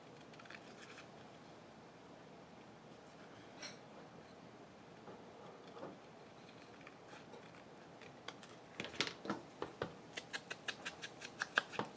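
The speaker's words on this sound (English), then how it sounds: "maybe I want to cut off that part." Scissors snip through a paper sewing pattern with faint, close cuts, quiet at first and then a quick run of crisp, evenly spaced snips toward the end.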